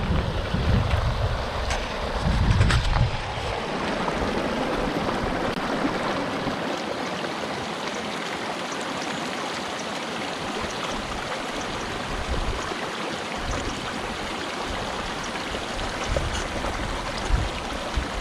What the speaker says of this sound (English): Thomas and Bailey are playing in the creek